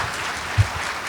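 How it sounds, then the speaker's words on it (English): A crowd at the annual Mayor's Celebration of Diversity Awards claps for a sponsor, a brief continuous wash of applause with one small louder thump midway. "so go ahead and give them a clap there."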